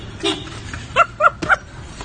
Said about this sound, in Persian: سایپایی که با بوق زدن قفل درش باز میشه.